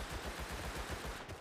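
Rapid automatic gunfire in the survival shooter Rust during a PvP fight, a dense burst of repeated shots pounding steadily through the whole moment, loud and close with no talking over it.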